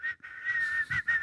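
A person whistles a steady, fairly loud tune up close, the sustained tone broken by a few short breaks. The whistling imitates someone whistling in an elevator.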